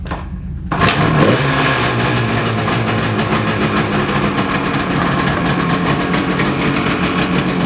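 A 1970 Yamaha YR5 two-stroke motorcycle engine fires up after a brief quiet moment, then runs steadily and loudly at a rough, buzzy idle for the rest of the clip, close by with no talking.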